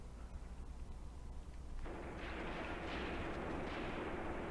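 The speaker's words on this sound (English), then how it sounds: "We found another anti-tank gun that opened up on us." Heavy wartime gunfire in the Graviteam Tactics game: a deep boom from an anti-tank gun, then dense, sustained rattling machine-gun fire that grows louder and fills the rest of the short stretch, with no voices.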